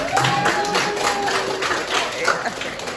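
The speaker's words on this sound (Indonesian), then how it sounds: "Tepuk tangan dulu buat adik Sohibul." A classroom group claps in a brisk, dense patter of hand claps lasting a few seconds, fairly close, with some voices mixed in.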